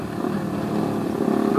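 Seven motorcycles, among them Kawasaki Ninjas, a Honda CBR and others, riding together toward a circuit: a steady, fairly loud engine drone with a slight rise toward the end, no talking.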